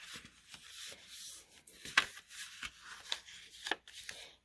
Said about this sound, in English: we're going to go ahead and fold, kind of accordion side